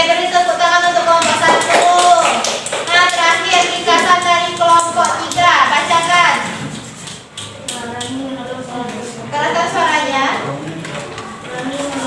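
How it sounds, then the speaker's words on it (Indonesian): An elementary school class applauds a group of schoolchildren, a dense stretch of clapping from many hands close by, with children's voices and talk mixed in throughout. "Oke, beri tepuk tangan untuk kelompok 1."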